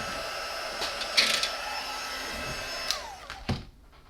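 A heat tool blows with a faint, steady airy whir while heating foam paint on a craft snow globe box, with a few small clicks and taps over the hiss.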